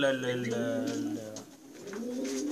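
A Qatqati Sabuni pigeon, a coarse-feathered breed, coos up close: one long throaty coo, a short dip, then a quieter second phrase.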